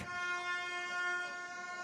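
Air horns or vuvuzelas blown by soccer fans at a night match in Adelaide, a sustained droning horn tone held steadily, fairly faint and distant across the ground.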